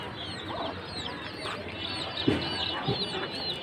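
A hen clucks quietly in a short, scattered run of calls over a soft, constant background, with no voices.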